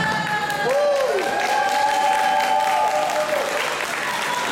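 Festival crowd at the Motanka-Festival in Berlin applauding and cheering, a dense, steady roar of clapping with shouts and whistles rising through it, close and sustained throughout.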